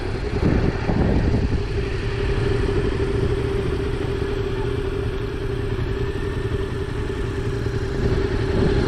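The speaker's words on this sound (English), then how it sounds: "gently bring the bike to a stop with the assistance of the front" A motorcycle on a training area runs steadily at low speed, a close mid-pitched engine drone with faint clatter as it is brought gently to a stop using the front brake, with no voices.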